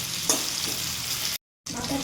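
Fish head frying in a pan: a steady, dense sizzle of hot oil close up, continuous with a brief break of silence, then the sizzling resumes.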